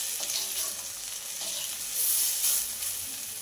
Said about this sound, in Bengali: এরকম বড়ার আকারে দিয়ে এক পিঠ ভাজা হয়ে গেলে তারপর এটাকে উল্টে দিতে হবে